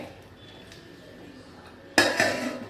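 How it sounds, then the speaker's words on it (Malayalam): A metal lid is set onto a pot of simmering okra tamarind curry (vendakka puli kulambu), a single sharp close clank with a short rattle after a quiet stretch of kitchen background. "ഒന്ന് മൂടി വെക്കാം നമുക്ക്"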